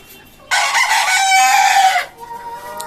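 Chickens kept on a rooftop farm, one bird letting out a loud, close crow of about a second and a half, with faint clucking before and after.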